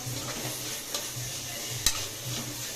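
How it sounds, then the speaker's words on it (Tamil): Soft continuous sizzling of liver sautéing in a pan, with occasional scraping stirs and a sharp clink of a utensil, close and fairly quiet. "இப்போ இதில் வதக்கிடலாம்."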